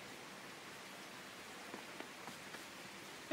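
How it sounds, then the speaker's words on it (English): Rain falling in the Super Mario RPG Remake video game: a soft, even hiss of rainfall continues throughout, faint and steady, with a few light drips standing out near the end. "Everyone's just like, oh, it's raining."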